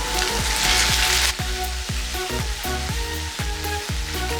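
Mushrooms for carbonara sizzle steadily in a hot pan, a dense crackling hiss that runs throughout, with repeated low knocks and scrapes of stirring roughly every half second.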